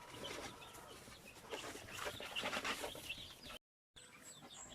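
Rhode Island Red roosters and chickens on a free-range heritage farm, clucking and calling softly at a distance over outdoor ambience, with a short gap of silence near the end.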